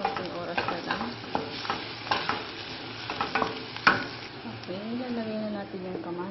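Tomatoes and onions are stirred in a frying pan: a soft sizzle runs under a series of scraping spatula strokes with one sharper clack, while a voice talks intermittently over the cooking.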